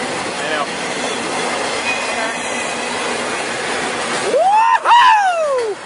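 A BNSF freight train rolls past under steady broad rumble, then loud metallic wheel squeals sweep up and down near the end as the cars pass close by.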